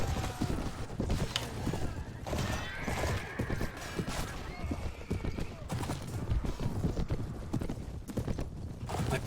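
Horse hooves drum in a steady clip-clop gallop through a Mount & Blade Warband battle, with horses whinnying and a dense clash of game noise around them.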